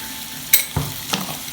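Food frying in a pan while being stirred and mixed for a night-time dinner, a few separate scraping stir strokes over a faint sizzle, close and fairly quiet, with no talk.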